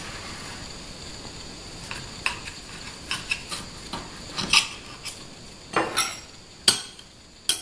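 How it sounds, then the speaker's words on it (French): A knife saws through a slice of Nougat de Tours cake, with irregular gritty scraping strokes and sharp clicks against a plate or board that grow louder toward the end, no talking. "Et je vais couper une part."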